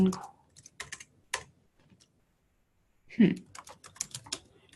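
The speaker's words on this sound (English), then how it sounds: "I type in inquire, or type in email" Bursts of typing on a computer keyboard, clattering in quick clusters with short pauses between, close and fairly clear, with no talking.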